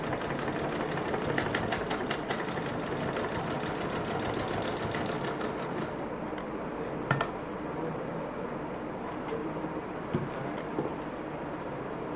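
A sewing machine stitching one side of a bag, its needle clattering in a fast even rhythm for several seconds, then easing into a quieter hum with a few isolated clicks.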